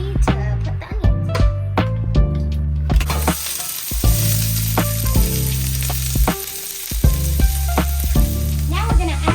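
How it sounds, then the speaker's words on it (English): Onions frying in hot oil while tacos are made, a steady close sizzle with a louder, brighter crackle partway through and clattering utensil knocks over it. "So our oil is hot, so we're gonna get ready to put the onions"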